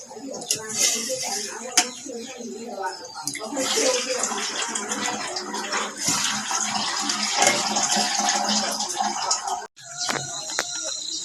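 Water runs and splashes steadily while fish caught overnight are rinsed clean for Shan-style steamed fish curry in banana leaf, with a brief pause near the end; faint voices sound in the background.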